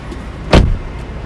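A Volvo XC60 T6 car door opens with a single short mechanical clunk, close and fairly loud, in an otherwise quiet setting.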